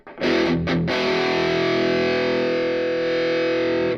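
Electric guitar played through a Peavey Bandit 112 Teal Stripe amplifier with a replaced speaker, a distorted chord strummed a couple of times and then left ringing loud and sustained for several seconds.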